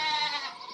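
Baby goats bleat on a family farm, a close, continuous wavering cry with no voices over it.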